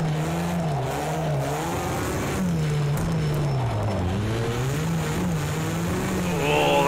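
A Volkswagen Polo rallycross car in the racing game Project CARS 2 roars through a turn, its engine note rising and falling steadily with tyre scrub and sliding noise throughout, loud and close.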